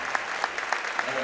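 A crowd at a USJ high school basketball game claps for the seniors: a short burst of rhythmic clapping with distinct regular beats, heard briefly.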